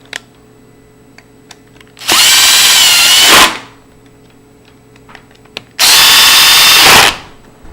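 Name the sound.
drill driving screws into lever lock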